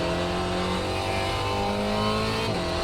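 Spec Racer Ford race car engine in the iRacing sim at Phillip Island, a steady loud droning whine holding high revs through a corner, with a brief pitch dip near the end.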